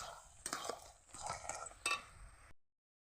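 Taro leaves (kochu shak) stirred in a cooking pot, a few scraping, clinking strokes of the spoon against metal at an irregular pace, close and fairly quiet, with faint background noise before cutting to silence.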